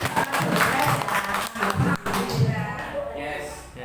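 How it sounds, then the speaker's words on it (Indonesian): An audience of teachers in a school gathering applauds a fellow teacher with a dense, continuous burst of clapping that fades toward the end, with voices mixed in. "Tepuk tangan buat Bu Tri ya."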